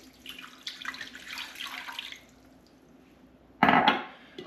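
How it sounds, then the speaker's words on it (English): Water pours into a slow cooker of birria, a steady splashing stream for about two seconds, followed after a quiet pause by a louder, brief gush near the end. "now we're going to add 2 more cups of water."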